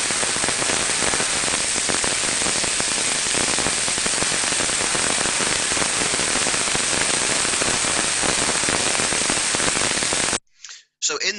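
An ultrasound recording of a machine bearing in early physical failure: dense, loud, non-uniform crackling like popping static, with sporadic sharper snaps running continuously before an abrupt cutoff and a brief final burst.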